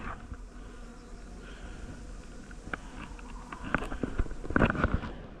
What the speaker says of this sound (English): There's plenty of bees there. Wasps are trying it.